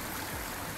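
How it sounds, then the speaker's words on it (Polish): Air massage bubbles churn inside a Bestway Lay-Z-Spa Palm Springs inflatable jacuzzi, a steady, close, bubbling rush that fills the whole brief moment. "Te bąbelki są naprawdę silne i masaż ten powietrzny jest zadowalający."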